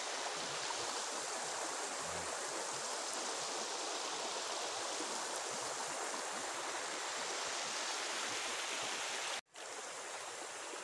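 A river rushes steadily at a campsite in Santa Cruz, Laguna, its broadband roar of flowing water continuous and close, with a brief drop near the end.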